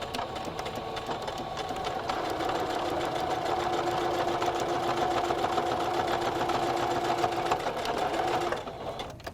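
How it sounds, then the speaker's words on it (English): A sewing machine runs steadily for about nine seconds, backstitching a fabric PPE mask, with a continuous whirring motor and rapid needle chatter up close before it stops. "we do want you to backstitch a little. We want it to be on there pretty firm."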